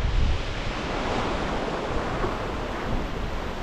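Cold Alpine Rhine river water rushing near the Oberalppass, a steady, dense broadband roar heard close and continuous with no voices over it.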